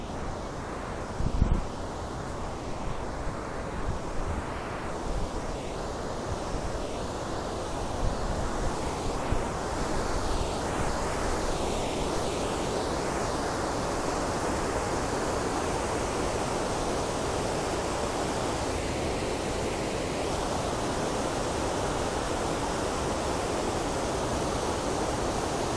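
A mountain river at Naran rushes in a loud, continuous wash of water, steady and unbroken from start to finish, with no voices over it.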